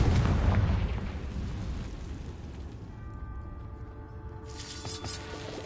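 A Confringo blasting spell explodes in Hogwarts Legacy with a loud, close burst that fades into a rumbling tail, and sustained tonal game sounds ring out near the end.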